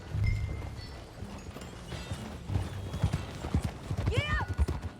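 Horse hooves clip-clopping in Red Dead Redemption 2, a brisk uneven run of close hoofbeats that grows louder toward the end, with a short whinny and a voice speaking over it.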